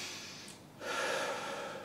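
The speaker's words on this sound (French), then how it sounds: "Prendre une bonne respiration, se mettre dans le cœur, faire le vide intérieur" One person takes a deep breath, a soft airy inhale followed by a longer breathy exhale, close and alone without speech.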